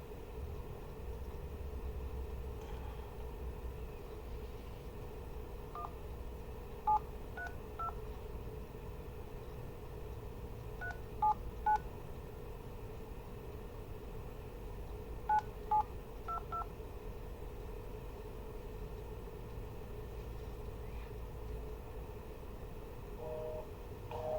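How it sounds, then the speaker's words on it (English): Telephone keypad tones dialing a number again after a busy signal, short paired beeps in a few quick clusters over a steady low hum, with no talking. "So we're just going to try to call that one again."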